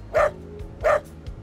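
A young puppy barks twice, about half a second apart, with light, high yips close by. Behind it there is a low steady hum and no voices.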